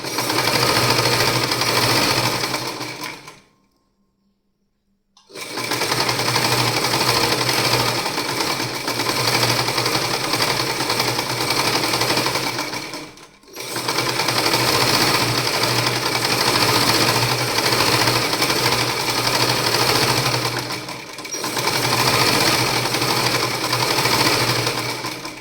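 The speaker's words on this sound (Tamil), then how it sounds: "ஸ்டிச் பண்ணுறேன்." An electric sewing machine stitches a bias strip onto a cloth bag, a loud, fast, rattling whir running in long stretches with a brief full stop early on and a couple of momentary slowdowns.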